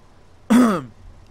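A single short throat-clearing cough, one rough burst lasting about a third of a second, close and fairly loud against a quiet background during a bus simulator game session.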